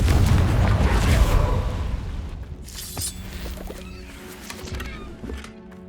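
A Confringo fire spell from Hogwarts Legacy erupts in a loud, booming blast at the start, then fades into scattered crackles and smaller pops over a lower rumble.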